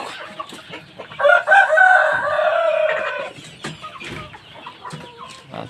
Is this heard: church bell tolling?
no